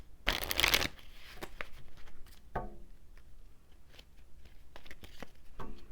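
A Romance Angel oracle card deck is shuffled up close. One loud riffle burst is followed by quieter flicks and taps of the cards in a still room.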